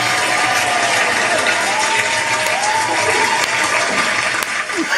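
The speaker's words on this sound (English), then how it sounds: "Slow clap" Applause from a crowd fills the space, a dense steady clatter of many hands with faint cheering mixed in, loud and continuous throughout.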